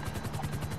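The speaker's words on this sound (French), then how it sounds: "nous on est avec Paul dans l'hélico" Helicopter in GTA 5 on PS3, a steady fast rotor chop with a continuous thrumming drone, close and even throughout, with no talk.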